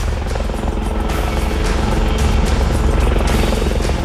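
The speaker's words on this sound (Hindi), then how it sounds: "आसमान में हेलीकॉप्टर मंडराने लगे।" Helicopters hover overhead near a village during an armed security operation, giving a steady, dense rotor drone with a fast thudding pulse that stays loud and continuous throughout.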